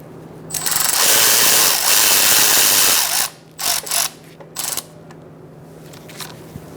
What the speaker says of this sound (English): I'm using a 10mm 12-point socket.